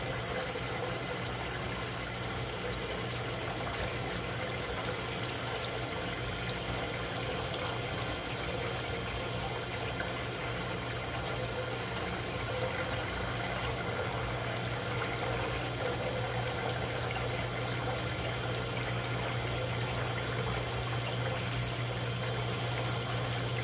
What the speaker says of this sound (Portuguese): Ligar ela aqui pra centrifugar.